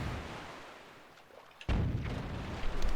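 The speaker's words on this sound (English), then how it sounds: "The lads blew down the door for me." A door blown open by an explosion in The Wind Waker, heard as a sudden heavy boom partway through that leaves a dense rumbling wash behind it, following a stretch of quieter game ambience.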